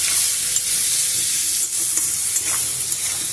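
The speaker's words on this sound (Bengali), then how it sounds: "দিয়ে আমি ভালো করে আবার নেড়ে চেড়ে চিনিটা এর সাথে মিশিয়ে নেব।" Jackfruit and potato, already fried, stirred with sugar in a pan: a steady close sizzle and hiss with soft scraping strokes throughout, no voices.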